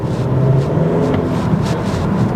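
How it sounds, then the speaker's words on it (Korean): A 2026 Volvo XC40 AWD engine pulls from low revs with a rough, throaty hum that rises gently, heard from inside the cabin, steady and fairly loud. "실내로 들리는 그 엔진 소리도 좀 거칠어요."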